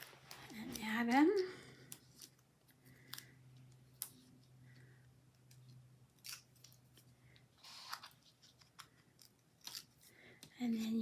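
Scissors make a few quiet, sharp snips cutting pop dots in a hushed room, with a faint voice at the start.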